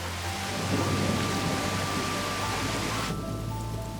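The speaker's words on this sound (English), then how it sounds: "the hail quickly turns into a downpour." Heavy rain downpour following hail, a dense steady roar of rain on surfaces with a low rumble of thunder beneath, loud and continuous throughout.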